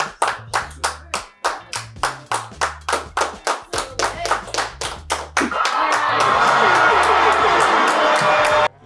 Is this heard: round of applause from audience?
yes